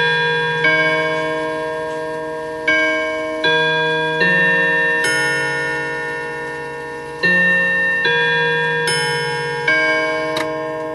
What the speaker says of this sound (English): And it's probably gonna chime soon.